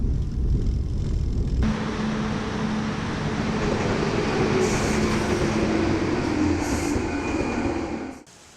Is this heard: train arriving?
yes